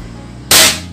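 A single sharp, loud crack from a PCP air rifle converted from an uklik pump gun, with a side-mounted fill, bursting abruptly after a quiet moment and decaying quickly.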